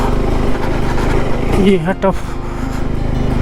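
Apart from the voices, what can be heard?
motorcycle engine climbing a mountain road in second gear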